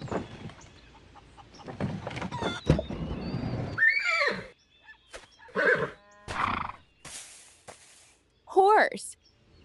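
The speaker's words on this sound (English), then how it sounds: "Horse." Horse neighing from a children's farm animals sound book, a loud wavering whinny arriving mid-clip and returning near the end, set among clicks, snorts and other short bursts.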